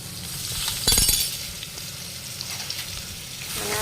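Ginger, chili and garlic sizzle in hot oil in a pan, a steady frying hiss broken by a brief burst of clinking from a utensil near the start.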